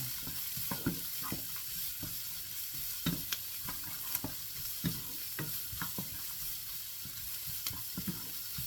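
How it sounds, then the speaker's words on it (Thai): Peas and corn, with raisins, being stir-fried in a pan for American fried rice, heard as a steady faint sizzle broken by frequent soft scraping and tapping of the utensil, close and quiet with no talk. "ผัดเลยค่ะ เข้ากันเลย"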